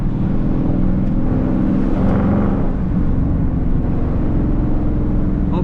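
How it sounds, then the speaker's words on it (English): Loud Dodge Charger R/T driven through city streets in Wilmington, Delaware: a continuous deep exhaust rumble heard from inside the car, with wind noise through open windows and a slight swell in throttle midway. "My car should sound 10 times better in the city as well."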